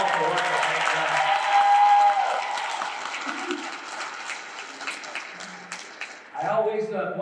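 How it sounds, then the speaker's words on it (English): At a physical therapist assistant pinning ceremony at Patrick & Henry Community College, the audience gives a sustained round of applause. It is loudest early, then thins and swells again near the end, with voices heard faintly through it. "Would you give them another round of applause for all of the work that they've done?"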